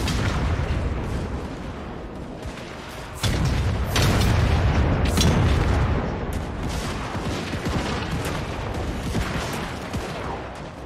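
Cathay army artillery fires in a battle strategy game, a dense stretch of repeated booms and cracks layered over constant battle noise, with a heavier burst of impacts in the middle and faint voices mixed in.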